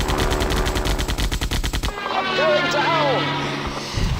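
Rapid machine gun fire from a plane in the Ace Patrol flight game, a fast regular burst of shots for about two seconds, then it stops, leaving engine drone and a falling whine.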